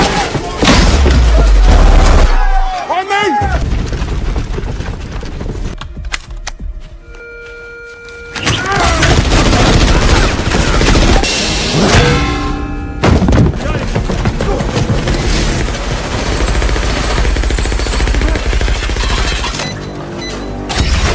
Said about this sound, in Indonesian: petugas CIA pun merasakan kehadiran Adam sehingga pada akhirnya Adam diberondong berbagai peluru.